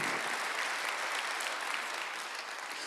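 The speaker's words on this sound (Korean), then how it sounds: "박수 한번 주세요" A church congregation claps during a Sunday worship sermon, dense and even applause sustained steadily for a few seconds without speech.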